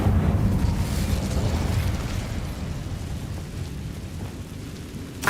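A roaring, rumbling fire blast cast with the Incendio spell in Hogwarts Legacy, a dense low-heavy whoosh sustained loudly throughout with a brief flare at the end, no voices.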